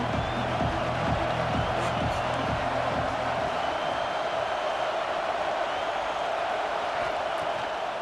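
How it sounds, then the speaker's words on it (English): Stadium crowd at a football game roars steadily for the defense on third down, a dense continuous wash of cheering with some rhythmic thumping early on. "Decibels rising as the crowd gets behind this defense on third down"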